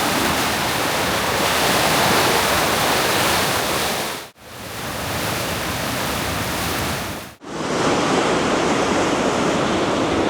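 Fast-moving water rushes loudly at Martins Fork Dam in Harlan, Kentucky, a steady, close, full roar that drops out briefly twice before returning just as strong.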